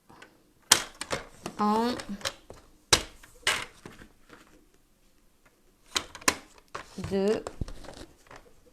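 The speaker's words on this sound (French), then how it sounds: "Je vais rapprocher mon coupe-papier ici pour être dans la lumière. Donc ici, 3. Et je vais marquer des plis." A paper knife scores fold lines into paper in short, crisp scraping strokes, several separate passes with pauses between them, close and fairly quiet, while a person counts aloud.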